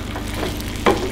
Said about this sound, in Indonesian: masukkan 2 sendok makan sambal yang sudah kita bikin tadi, atau sesuai selera. 3 sendok ya bun, kurang lebih. Kita tumis sebentar.